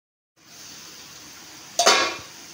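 Bitter gourd frying in a pan over medium flame, a steady close sizzle that suddenly swells into a loud hiss when the pieces are stirred, then eases off.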